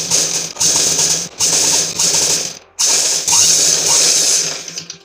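A sewing machine stitches a folded nighty hem in close, loud bursts of rapid whirring, with a few brief pauses between runs as the cloth is repositioned.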